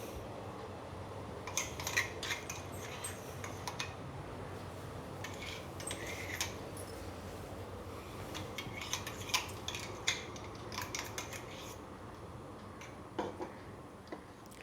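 A spoon stirring coconut payasam in a pot makes quiet, irregular metallic clinks and scrapes, scattered across a soft, steady kitchen background with no talk.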